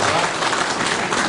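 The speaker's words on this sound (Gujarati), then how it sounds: "ઘનશ્યામજી નવા ચેરમેન બન્યા છે એટલે જોરદાર તાળીઓ સાથે" Loud, dense applause from a crowd at a ceremony installing a new chairman, continuous clapping close and full throughout.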